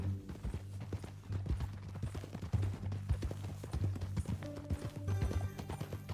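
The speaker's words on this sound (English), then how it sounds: "That a new horse?" A horse's hooves clip-clopping at a steady walking rhythm in Red Dead Redemption 2, close and continuous over low background sound, with no talking.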